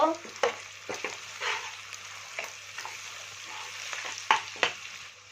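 Fish head stirred with turmeric and chilli powder in a frying pan, a soft continuous sizzle broken by several scraping and knocking strokes of a utensil, close and fairly quiet.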